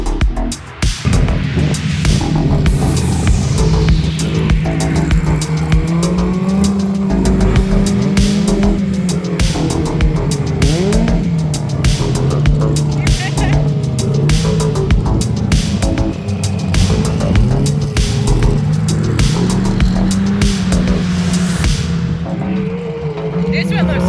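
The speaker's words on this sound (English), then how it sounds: "That's a sand truck instead of a sand car. It's definitely blown, I hear it. Must be supercharged." A supercharged sand truck and sand cars drive across the Glamis Imperial Sand Dunes in California, their loud engines roaring and throbbing nearby, with revs rising and falling continuously and voices talking over the noise.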